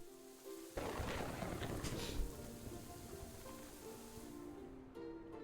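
Steady rain pours down with a low rumble of thunder rolling underneath in a video game, fairly loud and continuous, with a heavier burst near the middle.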